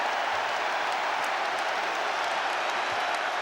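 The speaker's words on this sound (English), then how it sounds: "listen to this Twickenham crowd, they're loving it" At Twickenham, during the 1999 Rugby World Cup semi-final between the All Blacks and France, the stadium crowd cheers and applauds France's try as a dense, steady roar that holds at an even level throughout.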